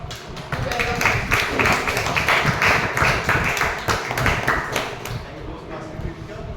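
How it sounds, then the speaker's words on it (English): Applause welcoming a speaker at a Toastmasters meeting, a steady patter of clapping hands lasting several seconds with voices mixed in. "let's have a huge round of applause to welcome him"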